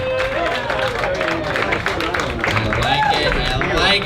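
Audience at a comedy show clapping and cheering for the panel, a dense steady roar of applause and crowd noise lasting throughout, with voices mixed into the din.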